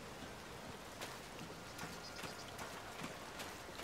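Rain falls steadily on surfaces in The Legend of Zelda: Tears of the Kingdom, a soft, faint, even patter of scattered drops with no voices.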